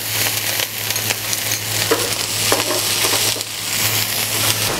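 Garlic, a splash of wine and artichokes sizzle in a frying pan with a steady close hiss, broken by occasional stirring clatters and a constant low electrical hum underneath.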